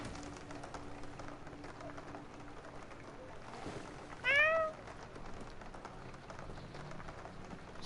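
A single cat gives one short, rising-and-falling meow partway through, fairly close against a quiet room background.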